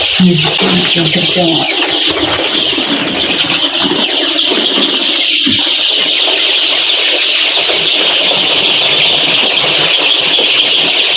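Many six-day-old chicks in a brooder cheep and cluck continuously in a dense, high-pitched chorus, with a low hum and faint background voices beneath.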